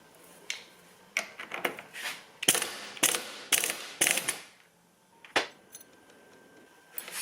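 A hand ratchet clicks in several short bursts while loosening the countershaft sprocket on a Yamaha RZ350 motorcycle, close and fairly quiet, separated by brief pauses, with no voices.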